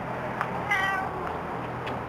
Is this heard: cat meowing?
yes